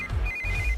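A telephone rings with a steady electronic trill, clear and close, with no voices over it.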